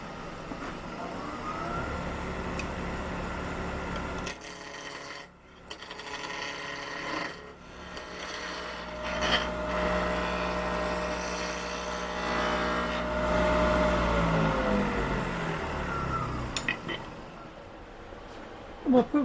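A wood lathe spins up and turns a spalted beech blank round between centers, with a steady motor whir and a scraping, rumbling cut that rises and falls in intensity, then winds down, with a voice speaking over it.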